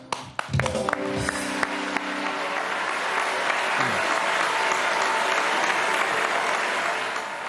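Studio audience at a television game show breaking into applause, building quickly from a few claps and tones into a full, sustained roar of clapping that stays loud and steady to the end.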